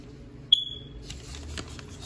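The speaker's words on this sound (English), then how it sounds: "my little smoke alarm. Gotta change the battery." A smoke alarm gives a single short, high-pitched electronic chirp to warn of a low battery, clear against a quiet indoor room with some faint rustling afterward.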